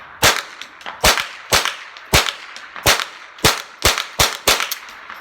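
A Ruger 10/22 M1 Carbine rifle fires ten rounds of Blazer ammunition in a steady, fairly quick series of sharp, close cracks, each shot evenly spaced with a short ringing tail, and no voices over them.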